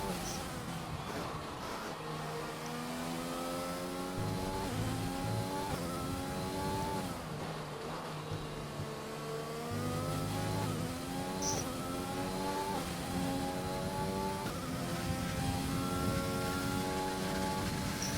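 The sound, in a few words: race car driven through chicane in a racing video game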